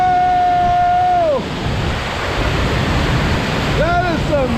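Strong water rushing under heavy pressure, probably from a pipe or hose at an old mine site, a loud steady broadband roar throughout, with excited voices whooping and shouting over it at the start and end.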